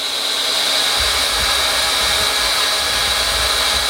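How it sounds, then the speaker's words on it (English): Hot air plastic welding gun with a speed welding nozzle, a loud, steady, close blowing hiss like a hair dryer that continues unbroken throughout, with a faint low rumble joining after the first second; no talking. "So now we can actually run along with our weld."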